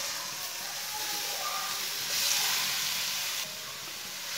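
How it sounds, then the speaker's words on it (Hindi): Grated carrots sizzling in hot oil in a pan, a dense, steady crackling hiss that holds close and loud throughout, swelling briefly partway through, with no talk. "ऑयल हमारा गर्म हो चुका है, कद्दूकस की हुई गाजरें डाल लेंगे।"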